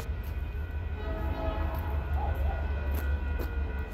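San Diego and Imperial Valley freight train on the Orange Line tracks, a steady low rumble of the moving train with faint horn-like tonal lines above it, continuous and fairly distant, no talking.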